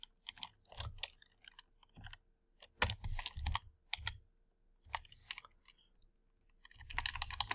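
Someone types a word on a computer keyboard, close and clear, with short clusters of key clicks separated by pauses and a louder flurry near the end.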